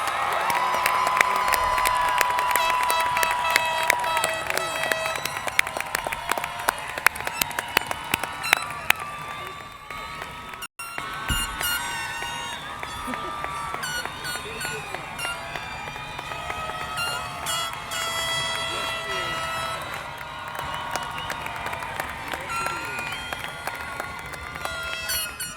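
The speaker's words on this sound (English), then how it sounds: "Let's get one more big round of applause for these amazing graduates" A crowd at a high school graduation ceremony applauds and cheers for the graduates, with sustained clapping, whoops and shouts that keep going over music and voices and continue after a brief break.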